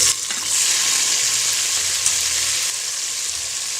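Tomatoes fry in a hot pan with a loud, continuous sizzling hiss that stays steady throughout.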